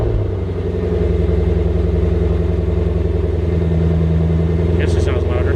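A car's engine runs steadily through a stainless TIG-welded exhaust with the second set of resonators removed, giving a loud, constant low rumble throughout, with a brief clatter near the end.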